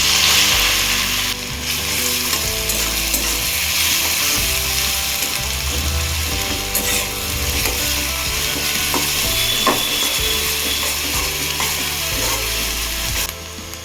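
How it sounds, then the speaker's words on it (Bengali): Grated carrot sizzles and crackles steadily in hot oil in a pan while a spatula scrapes and stirs in repeated strokes, loud and close, no voices. "তেলটা খুব ভালো করে গরম হয়ে গেছে দিয়ে দেবো গ্রেট করে রাখা গাজর"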